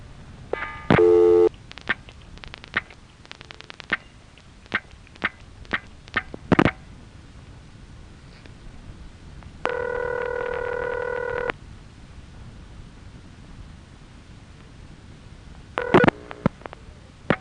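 Sparse clicks and clunks broken by short bursts of telephone coin collect and return tones on a 1974 Van Nuys crossbar exchange, including a steady two-second multi-tone signal midway, over faint line hiss.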